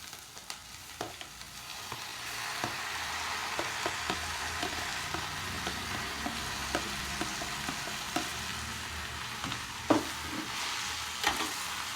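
Onions and tomatoes fry in a pan for a Malnad-style tomato gojju, a steady sizzle with scattered crackles and pops and occasional spoon stirs, close and continuous with no voices.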